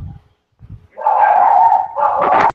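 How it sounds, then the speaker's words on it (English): A dog barks wildly over an open microphone on a gaming voice chat, starting with two short muffled woofs, then a long, loud, strained howling bark and another right after. "somebody's dog is going nuts"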